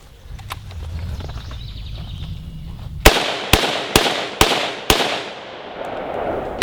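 An SLR107 rifle fires five sharp, loud shots in quick succession outdoors after a quiet stretch of rustling and faint background noise, and each report echoes briefly.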